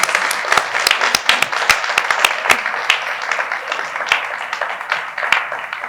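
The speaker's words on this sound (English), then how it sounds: "I would like to invite you to join me in a round of applause to thank and" An audience applauds at an appreciation luncheon, with many hands clapping in a full, sustained round and sharper individual claps standing out near and far.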